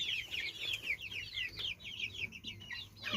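Month-old tiger chicken chicks on a small farm cheep and cluck in quick, rapid bursts, a faint but busy flock chattering continuously nearby.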